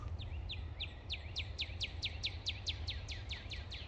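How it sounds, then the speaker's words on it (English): A bird up in a tree calls in a rapid, evenly spaced series of high chirps, about four per second, clear and moderately near over a low background rumble. "it might be a bird talking to another bird up in that tree"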